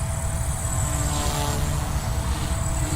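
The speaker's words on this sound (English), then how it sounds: "it's a micro heli, and it's running on a 4-cell battery" A Blade Fusion 180 micro RC helicopter on a 4-cell battery flies with a continuous high, buzzing rotor whine and a rough low drone, steady and fairly loud throughout, with no voices.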